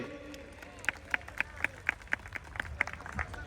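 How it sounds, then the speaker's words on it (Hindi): Audience clapping at a marketing event, a series of distinct rhythmic claps, roughly evenly spaced and fairly sharp, over a low murmur of crowd noise. "एक जोरदार तालियां हो जाए सर के लिए"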